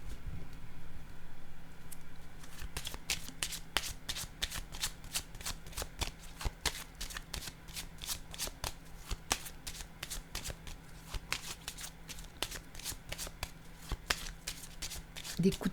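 A deck of cards being shuffled close by, a long steady run of crisp riffling snaps and flutters that keeps up for most of the stretch over a low hum.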